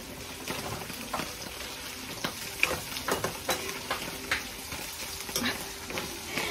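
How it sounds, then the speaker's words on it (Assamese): Fish frying in hot oil at home: a continuous close crackling sizzle studded with frequent sharp pops and spits, irregular and fairly loud, with no talking. "মাছ ভাজি আছো, ইফালে তেলখিনি গাত পৰিব বুলি"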